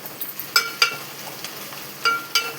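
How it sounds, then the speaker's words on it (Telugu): Onions sizzling in plenty of oil for a crab curry, a soft steady fry with several sharp scraping stirs of a spoon against the pan, no talk. "ఆనియన్స్ వేగుతున్నాయి."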